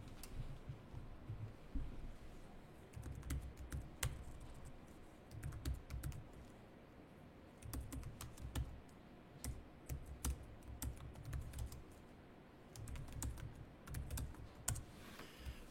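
Steady typing on a computer keyboard at close range: bursts of quick, light key clicks separated by brief pauses, quiet and alone.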